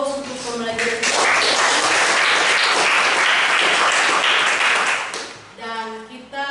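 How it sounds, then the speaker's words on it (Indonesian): A classroom audience claps in sustained applause, a dense wash of many hands lasting several seconds, with spoken voices before and after it. "Kita berikan aplaus untuk pembelajaran kita."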